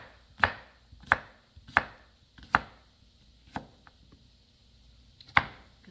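Two small white potatoes are chopped on a board: six sharp knife strikes at uneven intervals, close and distinct, with quiet pauses between them.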